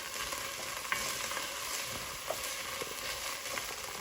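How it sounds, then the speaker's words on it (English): Canned chickpeas sizzle steadily in a hot pan with garlic and onions, a continuous close frying hiss broken by a few soft clicks as they are stirred and tossed. "We're just going to toss them around in the garlic and onions."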